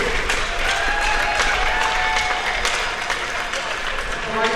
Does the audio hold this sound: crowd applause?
yes